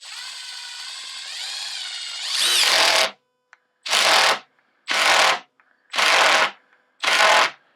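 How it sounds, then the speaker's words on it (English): A 12-volt impact driver in self-tapping screw mode spins a screw with a rising motor whine, then breaks into loud rattling impact hammering. Four short, sharp impact bursts follow with brief silences between them, close and loud. "it goes fast until it actually starts to impact, then it gives you a very quick burst of impact"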